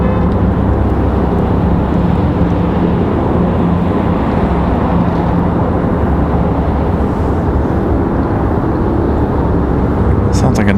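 A medevac helicopter flies over an airport, heard as a loud, steady broadband rotor and engine roar with no clear breaks, dense and close, mixed with wind-like noise throughout.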